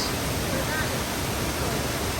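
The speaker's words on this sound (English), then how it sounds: "is the waterfalls, and there's another one a little bit further up." Tinuy-an waterfall in Mindanao, Philippines, roars as a loud, steady broadband rush of falling water heard close up, with no break throughout.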